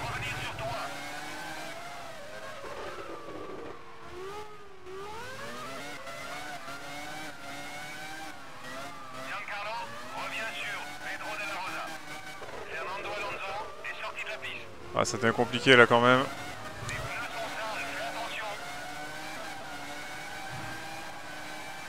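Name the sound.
Formula 1 race car engine, video game EA F1 2001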